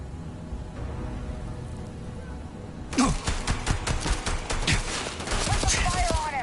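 Gunfire in Starfield erupts suddenly after a quieter stretch, becoming a sustained barrage of rapid, loud shots and impacts that keeps going to the end.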